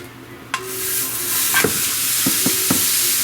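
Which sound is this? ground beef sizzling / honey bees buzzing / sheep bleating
ground beef sizzling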